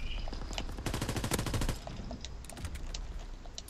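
Rapid bursts of pistol fire in the World War II shooter game Call of Duty: WWII during a team deathmatch, a dense run of sharp shots in the first half, then scattered fainter cracks further off.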